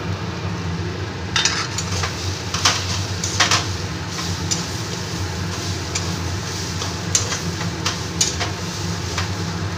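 Mashed boiled potato stirred into fried fish in a pan for fish cutlets, with a steady sizzle underneath and a few sharp clinks and scrapes of the spoon against the pan spread across the stretch.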